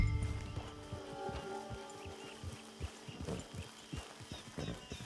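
Horse hooves clip-clopping at a steady walking rhythm in the Red Dead Redemption 2 video game, close and fairly clear, with a few low rumbles and ambient game sound around them.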